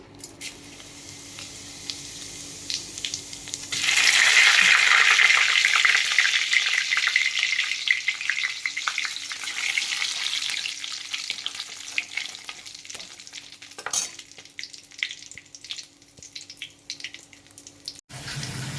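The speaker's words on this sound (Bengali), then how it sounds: "জিরে তেজপাতাটা ফোড়ন দিলাম।" Cumin seeds and a bay leaf hit hot oil in a pan where a fish head was just fried, bursting into a loud, close sizzle that slowly fades to a softer crackle with a few clinks.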